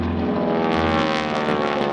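Radial-engine stunt biplane making a low flyby at an air show, a loud continuous engine drone with a harsh rasping edge from propeller tips going supersonic near 2,400 RPM, steady and close throughout with no talk.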